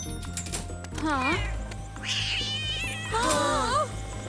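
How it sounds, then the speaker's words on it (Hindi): A cartoon cat meows and caterwauls several times in a row, loud and close, with bright wavering cries over a steady background music bed. "एक बिल्ली ऑफिस में भी चली गई, ये तो हद हो गई।"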